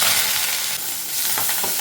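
Onions and curry leaves frying in a pan, a steady close sizzle with light stirring scrapes throughout, no voices.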